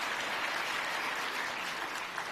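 Audience applause at a political speech, steady dense clapping from a crowd that fills the whole stretch, loud and continuous without any talk over it.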